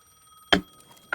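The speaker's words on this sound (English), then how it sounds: "The payphone was ringing again." Payphone in Alan Wake 2 giving two short bright rings, a louder near ring followed by a second one a half second later, over a quiet background.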